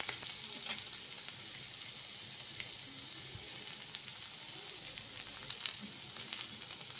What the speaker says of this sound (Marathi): कांदा आता भाजला लगेच, आता कढईने आधीच ठेवली होती त्याच्यामुळे ती पटकन गरम होऊन लगेच कांदा भाजला